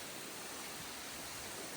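Small waterfall on a frozen river in winter in Cape Breton, Nova Scotia, giving a steady, broad rushing hiss of falling water, even and continuous from start to end with no voices.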